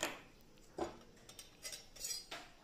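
Metal cookware clinks and clatters on a kitchen stove while Telugu gongura chutney is being prepared, a few faint, scattered knocks and taps with no talking.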